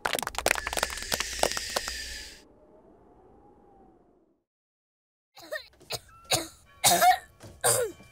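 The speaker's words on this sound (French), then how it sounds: "Bah dis donc, ça va pas mieux ta toux" A cartoon character gives a few hoarse coughs in quick succession, close and loud, then a quiet pause before people start talking.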